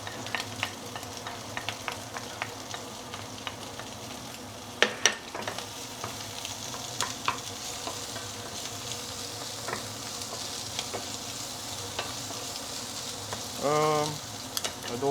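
Pickled vegetables, ginger and garlic sauté in hot oil, giving a steady close sizzle broken by sharp scrapes and taps of a utensil stirring in the pan, with a short buzzing hum near the end.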